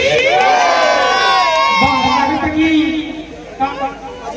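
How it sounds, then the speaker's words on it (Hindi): Crowd at a Bhojpuri comedy show, loud sustained cheering and shouting with excited voices, fading somewhat toward the end. "ताली बजा के हमारे का आशीर्वाद दे दे लो"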